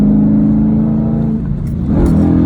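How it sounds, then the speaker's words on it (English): A 2015 Dodge Challenger R/T V8 with a manual gearbox drones loudly from inside the cabin, dipping briefly before the engine note rises again as revs climb, steady and close. "V8 does pretty good, man."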